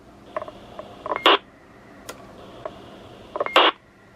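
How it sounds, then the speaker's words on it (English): Roger beep from a TRX404UK CB radio: two short bursts of clicks and a brief electronic beep, each ending in a harsher squelch-tail hiss, with quiet gaps between. "I switch the Roger beep option on. It's a little bit quiet and it gets lost in the squelch tail a little bit,"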